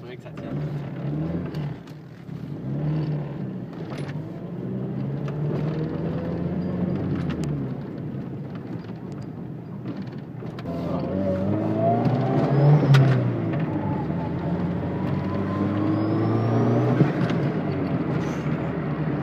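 A Honda Civic engine drones and revs up through a loud new exhaust, rising in intensity partway through, with voices talking over it.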